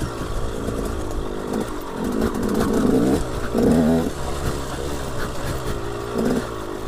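A KTM 125 SX dirt bike engine runs unevenly, likely from a fouling spark plug, its buzzing note sputtering and surging in uneven bursts, close and fairly loud with no talking.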